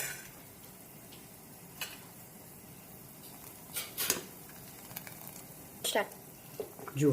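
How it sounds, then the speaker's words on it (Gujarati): Manchow soup boiling in a pot: faint, soft bubbling broken by scattered small pops and clicks, quiet and close. "સરસ ઉકળી ગયું છે સૂપ"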